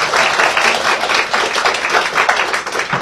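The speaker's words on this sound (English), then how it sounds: "give yourselves a round of applause" Guests clap loudly and continuously at an anniversary vow renewal ceremony in Las Vegas, a dense close-up round of applause with no talking.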